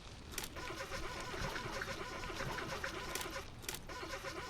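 Car engine in the video game Jalopy cranking and trying to start, a steady grinding churn that runs on for several seconds with small bursts along the way, fairly faint and without catching.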